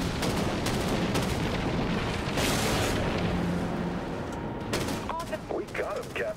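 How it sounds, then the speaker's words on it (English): Sniper fire and heavy weapon blasts from the naval combat video game Dreadnought, loud dense booms and crackling bursts layered continuously, with brief electronic blips toward the end. "That's a sniper, dude."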